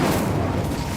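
A fire spell cast in the Hogwarts Legacy video game, a dense, low rumbling whoosh of flame that stays loud and steady through the whole second with no voices.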